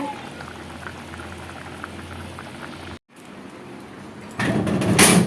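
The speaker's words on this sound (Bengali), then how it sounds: "দেখো বন্ধুরা মাছের ঝোল হচ্ছে" Fish curry bubbles steadily in a pot, a continuous close boiling hiss with a brief dropout midway and louder, brighter bubbling toward the end, no voices.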